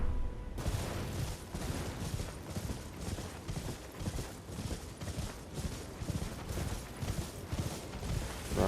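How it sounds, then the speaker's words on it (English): Horse hooves clip-clop at a steady gallop in Elden Ring, a fast continuous drumming of hoof beats under wind and game ambience for several seconds, with no voices. "Hop on our horse."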